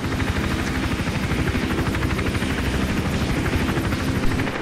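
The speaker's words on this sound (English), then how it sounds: "How is that helicopter able to see me?" Helicopter in the video game Hitman Absolution, a loud, steady rotor chop with rapid rhythmic beating throughout.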